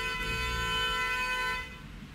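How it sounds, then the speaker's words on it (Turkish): Car horns honking in traffic, a steady layered horn tone held for about a second and a half before cutting off, leaving quieter background noise. "şu korna seslerini bizim Türkiye'de neden çok kornaya basılıyor ben bir türlü çözemedim"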